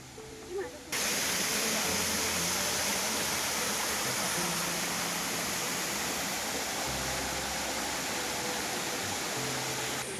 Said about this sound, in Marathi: पुढं आल्यानंतर आपल्याला ना एक छान असा धबधब धबधबा भेटलाय